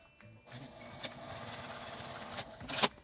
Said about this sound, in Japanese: 下だけミシンをかけて、表からは縫い目が見えないようにします。